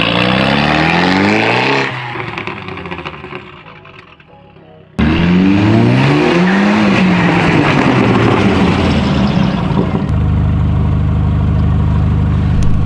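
An Audi TT is driven hard on a driveway, with a loud engine revving and rising through gears, a brief drop in level, then a sharp surge into hard acceleration before settling into a steady roar.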